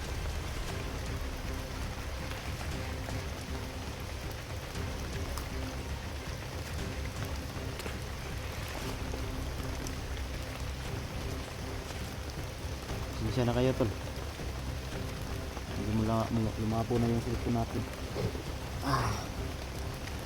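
Steady rain falls outdoors, a constant wash of noise as someone talks over it.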